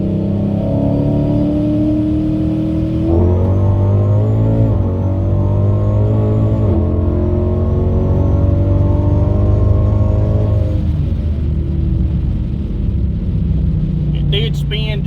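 Procharged, built 392 Hemi Dodge Challenger at wide open throttle, a loud in-car roar that climbs steadily through the gears with pitch drops at each shift, supercharger whine riding above the engine.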